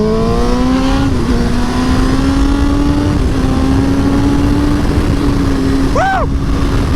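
A 2017 Aprilia Tuono V4 1100 Factory motorcycle on the move, its engine note loud and steady throughout, a continuous roar with rising and falling pitch and a brief sharper surge near the end.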